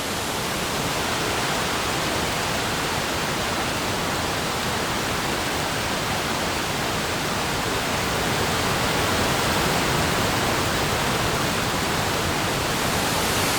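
A waterfall in a remote canyon lake gives off a steady, dense roar of rushing water that holds an even level throughout, with no voices.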